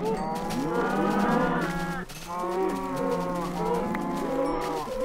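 Loud, overlapping Minecraft cow moos in long sweeping tones, with a brief dip in the middle before more lowing resumes.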